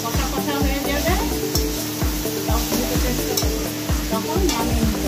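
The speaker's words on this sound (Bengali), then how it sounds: "এরকম ঢাকা দিয়ে দিয়ে নেড়ে নেড়ে এটাকে নরম করতে হবে।" A spiced mixture is stirred and fried in a covered home-cooking pan, with steady loud sizzling and repeated scraping strokes of a spoon in a regular rhythm throughout.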